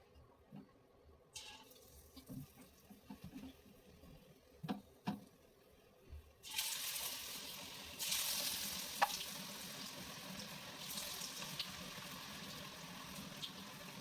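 Bajji fritters frying in hot oil, a steady crackling sizzle that swells suddenly about midway and carries on loud and close, with a few soft knocks and clatters before it.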